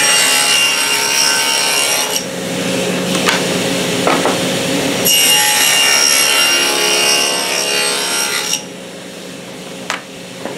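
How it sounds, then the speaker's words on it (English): Table saw cutting a dado through wood boards for a beehive sugar feeder, a loud, sustained whining cut with a brief drop as a board passes, then the blade spinning on before it quiets. "I'm going to run these through, and then I'll come back, reset the saw, drop it down and do that, and that'll cut the rest of the dado out."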